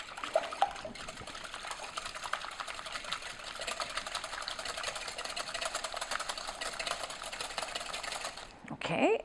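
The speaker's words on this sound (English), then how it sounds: "In a large bowl, place 3 large egg whites, which is 90 grams by weight. And then I'm just going to, with a wire whisk," A wire whisk beats three large egg whites in a large bowl, a quiet, rapid, steady metallic ticking and swishing that carries on for several seconds before stopping.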